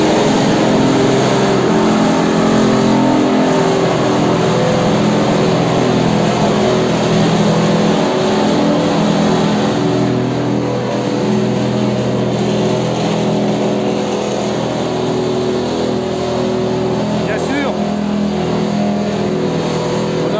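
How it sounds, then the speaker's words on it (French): Loud combustion engines of classic and sports cars rev and roar continuously at Magny-Cours circuit, layered over one another with rising and falling pitch, filling the space without any talking. "Au moins on a la chance avec des moteurs thermiques d'entendre son bruit, moteur."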